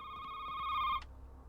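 Single electronic telephone ring in the night-shift game Shift at Midnight, a steady tonal burst lasting about a second before cutting off, followed by a faint click, alone against quiet background.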